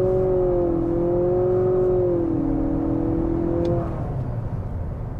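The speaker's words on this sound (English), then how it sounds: "Spinning out the front tires." A 2023 Nissan Altima SR Turbo accelerates hard with its front tires spinning, a loud steady engine drone with rising and falling pitch over about four seconds before easing off into road noise.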